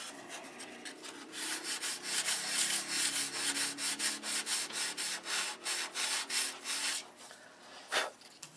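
Steady rhythmic sanding strokes rub back and forth across wood during a model aircraft build, close and continuous with a brief louder scrape near the end and no talking.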